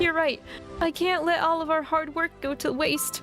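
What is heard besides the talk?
None of the usual background noises is heard.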